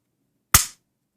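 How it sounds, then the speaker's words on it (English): A single sharp, crisp click from a dry-fired Smith & Wesson SD9VE pistol as the trigger breaks, close and alone in otherwise silent surroundings. "Watch this trigger pull."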